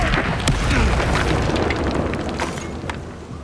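Booming explosion spell blasts in the video game Hogwarts Legacy, a dense, loud rumbling burst that fills the whole stretch with scattered crackling impacts and no pause.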